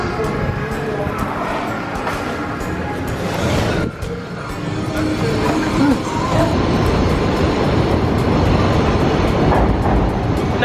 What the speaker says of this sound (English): There's a train going by, so it's really loud.